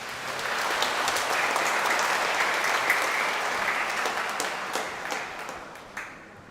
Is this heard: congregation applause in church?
yes